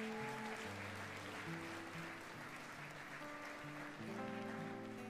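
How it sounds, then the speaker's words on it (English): Congregation applause at a church ordination and commissioning service, a steady wash of clapping that runs the whole stretch beneath sustained organ or keyboard music, fairly distant and even in level. "let's clap for them as they come"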